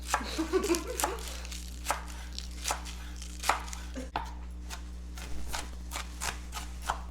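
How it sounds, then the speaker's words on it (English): A knife chops green onions on a cutting board in a steady series of crisp, close taps, some quick and bunched, others spaced out, over a low constant hum in a kitchen. "literally green onions are so easy to chop"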